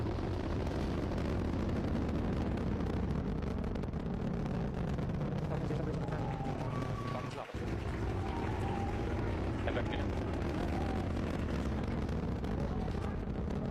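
A Falcon 9 Crew Dragon rocket's Merlin engine roars in a video game, a loud, steady, dense rumble that holds nearly unbroken throughout, with a brief dip partway and a few faint tones over it.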